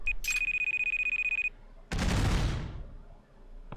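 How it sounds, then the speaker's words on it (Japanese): Loud electronic alarm ringing in a city street in the video game Judge Eyes, a steady repeating tone lasting about a second and a half, followed after a pause by a sudden loud burst of noise that fades out. "なんだこの音。 アラームかなんか？"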